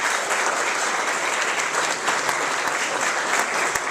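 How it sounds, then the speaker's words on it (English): A crowd at a Formula One 2011 presentation event gives a dense, steady round of applause for a former F1 driver, loud and continuous for a few seconds. "A round of applause for Anthony Davidson"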